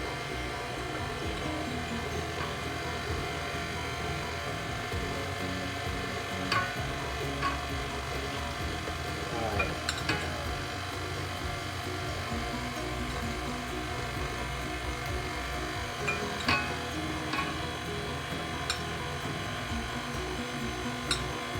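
An electric stand mixer running on low speed, blending batter with dry ingredients for apple praline bread, giving a steady, faint mechanical whir with light ratcheting clicks throughout.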